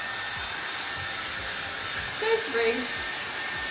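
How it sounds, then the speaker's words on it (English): Air wrap styler with its hair-drying attachment at full heat and full power gives off a steady, loud whooshing blow throughout, with a few brief words of speech rising over it near the end. "I usually just take my air wrap and I dry it with this."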